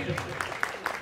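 Scattered applause from an award show audience, brief and fairly faint, with a few sharp claps standing out over a murmur of voices.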